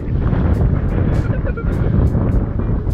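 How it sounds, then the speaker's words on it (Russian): Strong evening wind buffets a microphone outdoors at a littered spot during metal-detecting, a loud, continuous low rumble with gusty swells, someone talking over it at times. "ветрище вообще ужасный"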